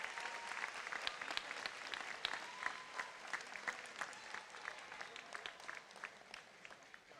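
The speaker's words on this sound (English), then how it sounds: "Let us all give a warm round of applause to our 2025 Cum Laude" Audience applause for 2025 cum laude honorees at a high school moving-up ceremony, a steady patter of many hands clapping at moderate distance, fairly quiet and continuous, tapering slightly toward the end.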